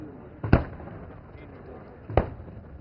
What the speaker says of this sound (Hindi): मेन बैटल टैंक अर्जुन अपने मेन गन से और BMP-2 सारथ अपने anti tank guided missile conquers के संगठित फायर से टारगेट ग्रुप 3 में दुश्मन के टैंकों को